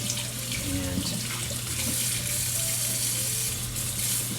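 Water runs steadily from a tap while cornhole bags are rinsed and kneaded under it, a loud continuous splashing hiss with faint squelching and handling noises throughout.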